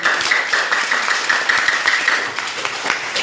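Students in a grade 12 classroom clap together for a few seconds, a dense, steady patter of many hands with a few sharper individual claps standing out near the end.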